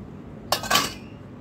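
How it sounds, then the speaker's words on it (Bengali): Dishes and plates clinking in a home kitchen as they are washed and put away: two quick, close metallic-ceramic clinks in a row against quiet room tone. "এই তো এখন আমি থালাবাটিগুলো গুছিয়ে নিচ্ছি, ধুয়ে রাখছি ওগুলো"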